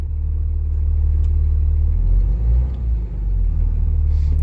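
A diesel engine being diagnosed for a possible high return or leaking injector idles with a loud, steady low-frequency rumble close by, running continuously without speech.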